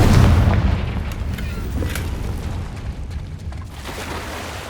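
The Confringo fire spell explodes in Hogwarts Legacy: a deep boom at the start rolls into a long rumbling decay that fades over several seconds.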